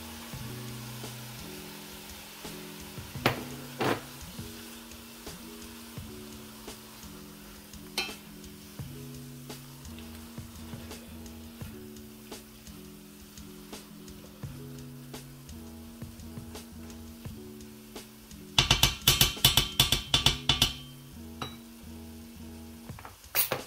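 Tomatoes fry for moussaka in a pan with a low, steady sizzle, under a repeating tonal background, and a burst of rapid stirring and scraping clatters near the end.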